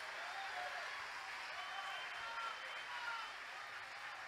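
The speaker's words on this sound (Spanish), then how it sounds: "El aplauso para ustedes." Audience applause at a concert at the 48th Fiesta Nacional del Salame, a steady wash of clapping from a large crowd that holds at an even level throughout.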